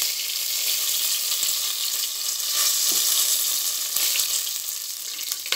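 Cumin seeds, dried red chilli and bay leaf sizzling in hot oil, a loud continuous close frying hiss with occasional stirring scrapes and spatters, no talking.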